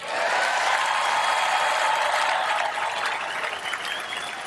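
Arena audience at Trump's presidential nomination acceptance speech applauds in a dense, loud, sustained wash of clapping and crowd noise that eases slightly toward the end.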